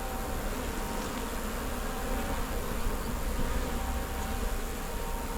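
Honey bees from a swarm hive with a brood box nearly full drone in a dense, steady buzz, close and even throughout with no voices.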